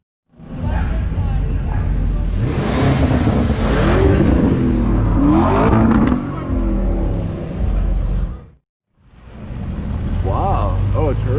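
A heavily MSO-modified McLaren 720 launches and revs hard, a loud close engine roar rising and falling in pitch over several seconds, cutting off briefly before revving again, with people talking over it.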